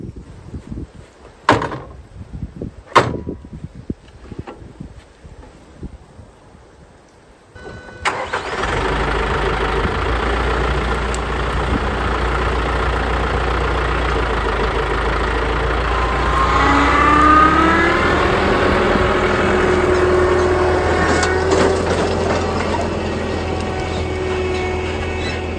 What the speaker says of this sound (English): Just fired the tractor up.